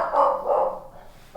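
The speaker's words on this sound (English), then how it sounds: "You can hear that the other dogs are barking." Several household dogs bark from another part of the house, a couple of mid-distance barks in quick succession with no talk over them.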